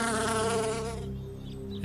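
A bee buzzes in a close, steady drone with a strong harmonic hum that fades abruptly partway through, leaving a quieter faint buzz.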